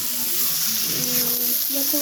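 Prawns and pumpkin cook together in a pan, giving a steady close sizzle and hiss that runs throughout while a person talks over it.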